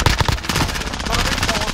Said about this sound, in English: Man, I love this MP7.